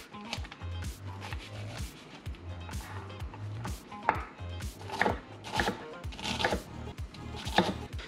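A knife chops onions into squares on a cutting board: rapid bursts of crisp, close taps in repeated runs, with short pauses between, loud and steady over light kitchen background.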